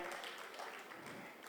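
Audience applause at a book fair speech in Chennai, a steady wash of many hands clapping, fairly faint and distant throughout.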